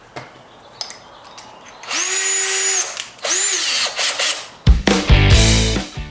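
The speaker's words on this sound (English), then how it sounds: "we're just going to drill those holes, and then we can pull the bumper off" A power drill whirs in two short bursts, then a rougher grinding burst as it bites through material while drilling holes to remove a Corvette C7 bumper, loud and close.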